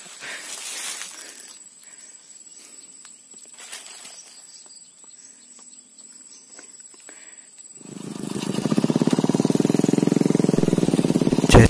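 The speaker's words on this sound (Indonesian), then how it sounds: "Jadi ini saya videonya sambil naik motor." A motorcycle engine rises to a steady, close drone partway through a ride, after a stretch of quieter outdoor ambience.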